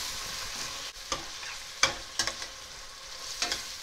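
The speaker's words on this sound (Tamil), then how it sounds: "சேர்த்து கலக்கி விட்டுட்டு அப்படியே கொஞ்ச நேரம் வதக்குங்க" Tomatoes being stirred and sautéed into a mutton pepper masala in a pan, with a steady soft sizzle and several distinct scraping strokes of a spoon spaced through the clip, close and without talk.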